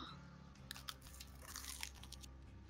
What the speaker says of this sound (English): Why don't you just crunch a little bit louder in my ear?